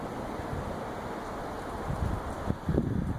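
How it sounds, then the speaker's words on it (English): Gusty outdoor wind in Colorado, a steady broadband rush buffeting close on the microphone, swelling into stronger low thumping gusts toward the end, with no voices. "I don't know if you can hear the wind"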